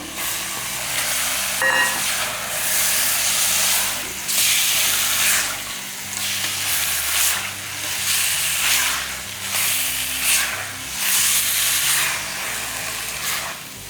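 Mutton with onion and tomato sautés in a pan for Chettinad mutton curry, a loud close hiss that swells and fades in a regular rhythm as it is stirred.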